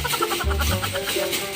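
Close, loud clucking from a rooster, a run of short repeated calls followed by a longer throaty sound, with steady background noise throughout.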